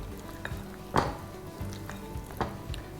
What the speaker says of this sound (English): I've added the onions and the tomatoes, and I'm adding the paneer. Give it all a nice mix.